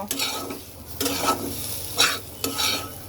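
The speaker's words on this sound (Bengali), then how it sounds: "এইবার এই মশলাটাকে এক মিনিট আমি একটু তেলে ভেজে নেব" Spice powders including cumin powder fry briefly in oil in a pan, with a constant low sizzle under four sharp scraping stirs of a spoon at roughly even intervals.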